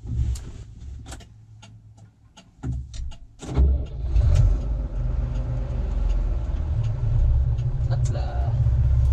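Tractor engine running during a corn harvest in the field, a steady low rumble that builds and stays loud after a few seconds, with scattered clicks and rattles over it.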